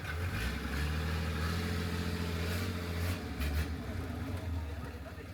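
A small tour boat's engine drones steadily near James Bond Island, a close, low, continuous rumble with a voice talking over it.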